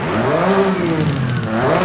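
Boxer-engine car in Forza Horizon 5 revving briefly, a loud steady engine drone with a slight rise and dip in pitch, alone without speech.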